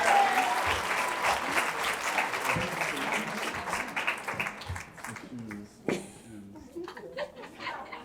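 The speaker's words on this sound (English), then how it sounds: "Let's give one more round of applause to Chris" Audience applause fills a hall at an awards program for a women's initiative, dense clapping that is loud at first and gradually thins toward the end, with a few voices and laughs mixed in.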